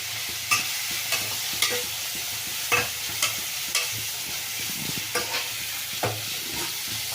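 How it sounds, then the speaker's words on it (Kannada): Onions and curry leaves frying in a pan, a steady sizzle broken by a series of sharp scraping stirs, close and clear with no talking. "ಈರುಳ್ಳಿ ಚೆಂದಾಗಿ ಫ್ರೈ ಆಗಲಿ."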